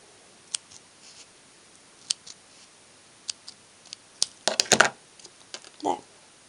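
Small scissors snipping to trim tack for a Schleich model horse: scattered sharp close snips and ticks, sparse at first and then a quick cluster of cuts, with a soft rustle near the end.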